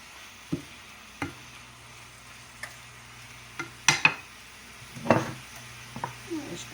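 Spinach wilts in a pan with quiet sizzling, broken by scattered sharp clicks and scrapes of stirring, faint and close.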